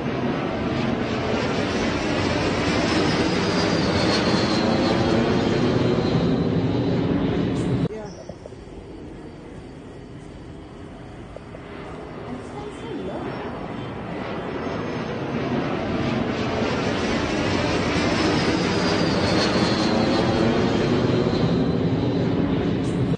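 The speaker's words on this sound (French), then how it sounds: "d'expérimenter des vols répétitifs d'avions de chasse à basse altitude" Fighter jets flying repeatedly at low altitude over a city avenue produce a loud, sweeping roar that builds, drops off sharply, then swells back into a sustained rumbling pass.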